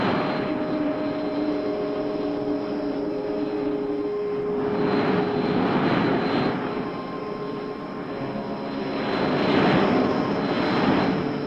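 A cartoon spaceship's engine roars during landing. The rush is steady and loud and swells twice as it comes in, with no talk over it.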